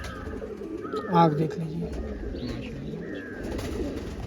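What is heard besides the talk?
pigeon cooing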